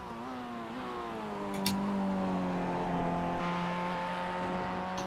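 Spec-5 race cars lap Road America near Canada corner, engines droning in a steady rising whine that swells slightly as they pass, heard from a distance at moderate volume.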